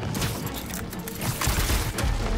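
Gunfire rings out in the Marvel's Spider-Man 2 video game, a dense, steady barrage of shots and impacts that runs throughout, with heavy low thuds.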